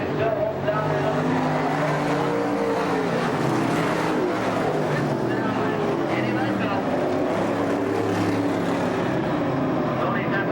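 Race cars lapping a track and coming out of turn four, a dense roar of engines rising and falling as they pass, heard under continuous race commentary.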